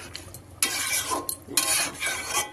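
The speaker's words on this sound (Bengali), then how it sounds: "সয়াবিনটা রান্না হচ্ছে।" Soybean curry with cauliflower and peas being stirred in a pan at close range, with two bursts of scraping and stirring separated by brief pauses, alone without talk.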